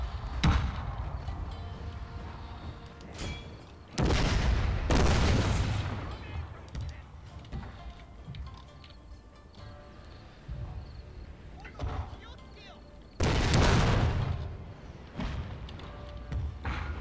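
Cannon artillery booms in the strategy game Total War: Shogun 2 - Fall of the Samurai, several heavy blasts spaced apart, two especially loud, over lighter battle ambience.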